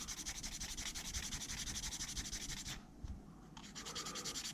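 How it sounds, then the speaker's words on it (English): Steady, rapid rubbing strokes of sandpaper on the soles of a Ma.K Brickworks figure, close and continuous, with a brief pause near the end before the scratching resumes. "the bottom of her soles need a bit of sand"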